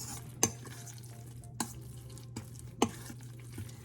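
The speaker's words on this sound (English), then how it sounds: "Just going to mix it in there." Quiet sizzling in a pan with a few distinct scraping clinks of a utensil stirring food, spaced irregularly.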